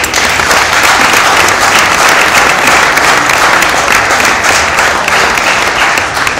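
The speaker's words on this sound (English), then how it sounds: "So we can give Zach a round of applause, please" Banquet audience applauding a newly hired soccer coach at a 2012 team banquet, a loud, steady wash of many hands clapping that holds evenly throughout.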